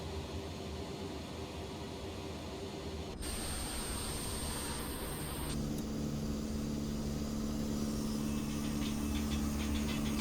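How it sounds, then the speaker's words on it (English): ERJ jet engines spin freely in a flight simulator with the engine covers off, giving a steady broadband whoosh with a faint whine. The tone shifts and grows a little louder partway through, and no one speaks. "So we have our free spinning engines."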